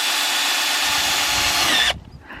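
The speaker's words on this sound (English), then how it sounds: "we've just got the drill out, just in case we need some support" A power drill whirs at steady high speed, close and loud, for nearly two seconds before cutting off abruptly, leaving quiet room noise inside a bus.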